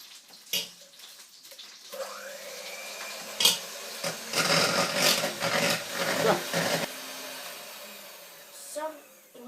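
An electric mixer whips cream in a home kitchen, its motor whirring in uneven bursts that rise and fall, close and moderately loud, with brief pauses and a few short spoken words between.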